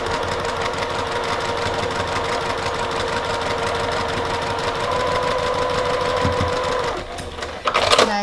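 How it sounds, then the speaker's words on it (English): A sewing machine stitches quilt pieces together in a steady, fast mechanical run lasting about seven seconds, then slows and stops with a few clicks near the end. "then I'm going to stitch down that right hand side"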